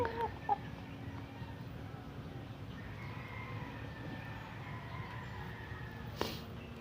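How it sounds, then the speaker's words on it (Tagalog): Six-month-old young rooster, a stag, gives a few faint clucks and calls amid quiet outdoor background noise, with a brief sharp knock near the end. "6 months old stag"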